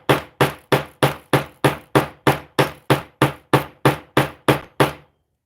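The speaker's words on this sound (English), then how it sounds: "I'm gonna whack the heck out of this." A hammer strikes a craft piece about fifteen times in a steady, evenly spaced rhythm, each whack loud, close and sharp, with no talking.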